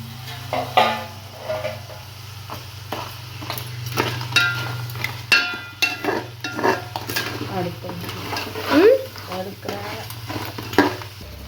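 Crab pieces frying in a pan for Andhra-style crab curry, a steady sizzle broken by frequent clattering stirs and scrapes of a spoon against metal, with a low hum underneath.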